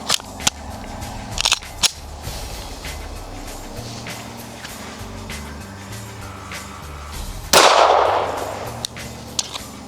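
A Glock 17 pistol fires a few sharp, loud reports early on, then a louder blast later, in a sequence where a failure to extract occurs; clicks and handling noises fill the gaps between shots.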